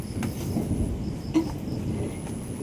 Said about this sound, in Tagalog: Bilis na, kumukulog.